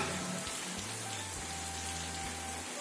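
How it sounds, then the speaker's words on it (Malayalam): Evening rain falls steadily at a home, a dense, even hiss of drops on surfaces at moderate distance, with a faint low hum underneath. "അപ്പോൾ ദേ വൈകുന്നേരം ആയപ്പോൾ നല്ലൊരു മഴ"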